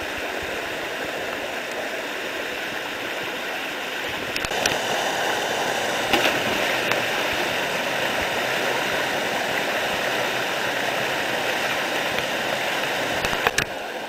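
Water rushes continuously down a mountain stream in the Sant Aniol gorge in the Pyrenees, a broad, steady roar close by that grows slightly louder partway through, with a few faint knocks and no talk.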